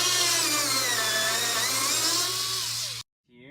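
Power tool whirring steadily and loudly for about three seconds as it backs out a bolt near the windshield wiper on a 1974 Datsun 620, then cutting off and spinning down.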